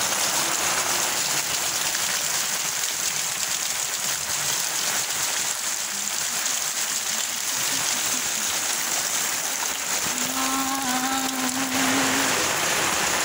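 Heavy rain pours down in Malda town, a dense, constant hiss of drops on surfaces filling every moment, with a faint tonal whine rising briefly near the end and no talk.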